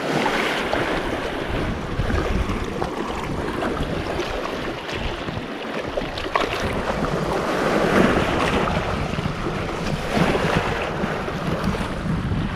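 Steady rush of wind and water around a moving fishing boat, with waves splashing against the hull throughout and gusts buffeting the microphone.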